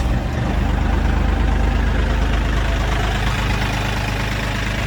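A Kioti tractor engine runs at a steady, loud low-pitched idle after cranking, a continuous diesel rumble close by with no talk over it.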